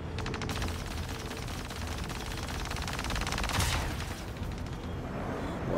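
Rapid, continuous bursts of cannon fire from a removable ship cannon in the space game Star Citizen, dense rattling shots close and loud with a brief surge midway.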